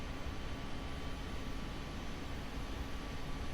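A Panavia Tornado jet in Microsoft Flight Simulator 2024 idles while lining up on the runway, giving a steady, even engine roar with a faint whine on top.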